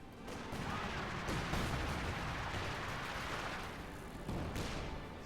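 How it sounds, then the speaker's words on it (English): Infantry support guns firing nonstop in Company of Heroes 2, a dense wash of distant artillery thumps and crackling gunfire rolling continuously, with a sharper report near the end, no voices. "ISGs are just firing 24/7"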